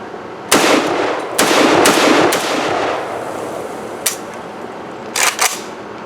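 An Izhmash Saiga 7.62 NATO .308 rifle fires about six sharp, loud shots at irregular intervals, some spaced apart and a final pair close together, each with a short ringing decay.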